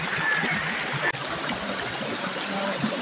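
Strong, rushing spring-fed stream water flowing steadily and loudly up close, a continuous broad churning roar with a brief dip partway through.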